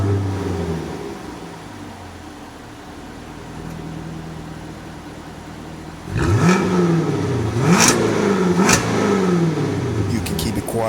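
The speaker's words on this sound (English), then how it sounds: "And that is the exhaust." A 2021 Jaguar F-TYPE R's exhaust rises from a low idle rumble into loud, sharp revs with several rising and falling blips, close to the car.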